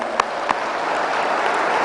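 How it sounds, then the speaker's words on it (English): Audience applause at a Telangana government IT policy inauguration, a steady even wash of clapping with two sharper claps near the start, no voices over it. "Let's give them a round of applause, please."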